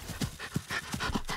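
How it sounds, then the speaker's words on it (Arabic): A dog pants quickly and rhythmically, close by, with steady breathy bursts and no speech. "الله شاف الكلب بيعمل ايه، الكلب بيجري"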